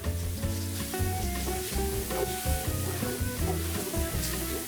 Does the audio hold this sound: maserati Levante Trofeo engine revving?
no